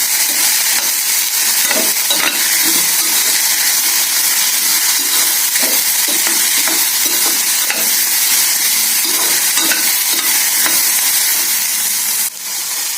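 Steady sizzling and crackling from okra and onion frying in a little oil in a pan, with occasional scraping as it is stirred, loud and close throughout.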